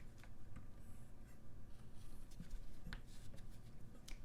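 A pencil draws short lines on paper in a quiet room, giving faint, close scratchy strokes in brief bursts with small pauses between them.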